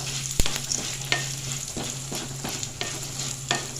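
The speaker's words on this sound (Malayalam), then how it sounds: "കുരുമുളകും ജീരകമൊക്കെ പൊട്ടിത്തടങ്ങി" Black pepper, cumin and dried red chillies dry roasting in a pan, a steady crackle with repeated stirring scrapes at a fairly even rhythm, close and moderately loud, with no talk.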